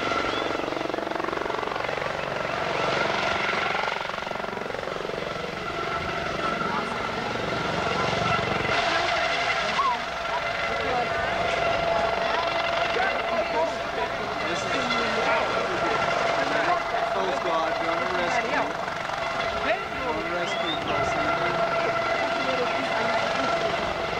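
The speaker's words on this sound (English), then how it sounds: "So that this helicopter can land, because the noise is a little loud." A helicopter landing at an airfield during an air fair, a loud, steady rotor and engine roar that fills the whole stretch, with people talking underneath it.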